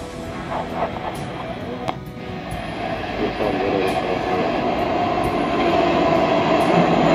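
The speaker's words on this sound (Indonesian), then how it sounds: "Akhirnya kereta kita datang." A train pulls into a platform at a station on the line to Ayutthaya in Thailand, giving a steady, rising rumble and rail noise with faint metallic squeals, heard up close without talk.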